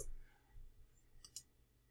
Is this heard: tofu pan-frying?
no